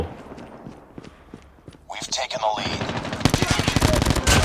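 Rapid automatic gunfire in Call of Duty Mobile during a Gun Game team fight, bursts starting after a couple of seconds and building into sustained loud firing, with a voice talking over it.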